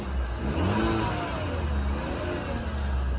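A 2021 Cadillac CT4 engine hums and revs steadily with a light buzzing whine, moderately loud and continuous, no voices.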